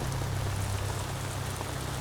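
Rain pours steadily onto the rocks of a crumbling cliff face, a dense, even hiss with a low rumble beneath it and no voices.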